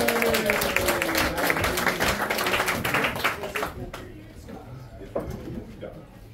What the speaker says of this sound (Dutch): En om een luid applaus vraag voor Karin Rianne Westerdoorn.